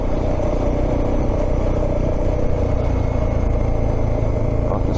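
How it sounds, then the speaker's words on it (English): A motorbike engine drones and clatters steadily while riding a sand track in Murray Sunset National Park, with another bike approaching in the background, loud and continuous throughout. "Oh, I can see another bike coming."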